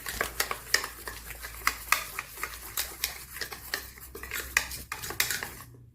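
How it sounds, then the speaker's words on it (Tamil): A beater whisks vanilla-scented cake batter in a bowl, clattering against the sides in quick, irregular taps and scrapes that stay close and fairly loud before stopping abruptly. "ஸோ பீட்டரை வச்சு இது நல்லா மிக்ஸ் பண்ணிக்கோங்க."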